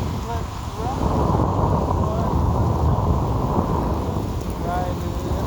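Rain while riding a Segway e+ electric unicycle outdoors, a loud constant rushing wash with low rumble like wind and heavy rain, steady throughout with faint tonal chirps.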